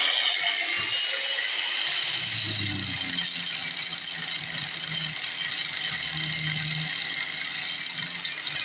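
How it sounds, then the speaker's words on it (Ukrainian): Grinding disc sanding a surface, a steady close abrasive whir with a ratcheting, mechanical texture that runs continuously, with low rubbing bursts along the way. "І я так, слухайте, шліфую оцим диском, зараз зараз, зараз покажу."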